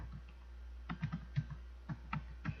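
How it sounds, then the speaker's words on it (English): Fast keystrokes on a computer keyboard while an email address is entered for a new account, clustered taps in short bursts with brief pauses, quiet and close over a steady low hum. "I'm going to type in an email address here."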